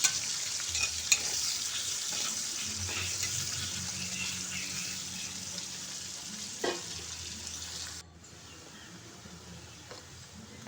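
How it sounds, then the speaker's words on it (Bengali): Chopped onion and dry red chillies fry in a pan with a steady close sizzle and occasional stirring scrapes, easing to a quieter hiss near the end. "পেঁয়াজটাকে একটু লাল লাল করে ভেজে নেব"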